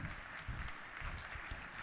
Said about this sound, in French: on peut les applaudir encore plus fort